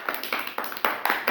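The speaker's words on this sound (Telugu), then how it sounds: "గుడ్, క్లాప్స్ కొట్టండి వాళ్ళకి." Children clapping in a short, uneven round of about five or six claps, close and moderately loud, with no speech over them.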